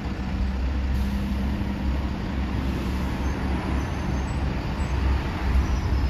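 Number 35 and 50 buses move with other vehicles along a busy street in Kings Heath, Birmingham, making a continuous low engine and road rumble with no clear breaks.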